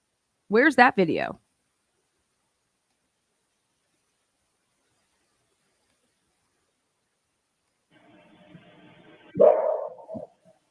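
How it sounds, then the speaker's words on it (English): A dog barks outdoors at night, picked up by a home security camera: a short burst of barks near the start, then a long silence, then a fainter rising sound and another louder bark near the end. "We've been conditioned to say that this dog is Murphy."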